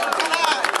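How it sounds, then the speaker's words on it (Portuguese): Crowd at a Brazilian rap battle clapping and cheering, a loud, dense wash of applause and shouts with irregular bursts filling the whole moment. "Várias palmas e palmas e palmas"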